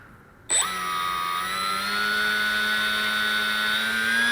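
A Hobbyking NTM 35-36 1800KV brushless model aircraft motor, mounted in a Wings Maker DF 032 pusher setup on a watt test, starts abruptly and spools up to a steady, loud, rising whine that holds close and continuous.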